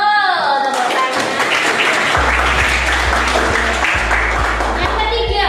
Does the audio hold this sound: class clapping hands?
yes